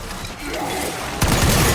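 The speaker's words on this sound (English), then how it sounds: "just shoot them, group them up and shoot them" Rapid gunfire in Black Ops 6 Zombies as a grouped horde of zombies is shot down, a loud, dense, continuous burst with a sharper surge near the end, under a voice.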